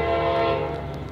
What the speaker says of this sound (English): You can hear the train coming now,